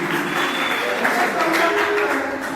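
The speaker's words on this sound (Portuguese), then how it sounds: "Aplausos, família, para a Liga LBN" Audience applause at the Mozambique battle league (Liga das Batalhas de Moçambique) semifinal, a steady wash of clapping and crowd noise mixed with voices throughout.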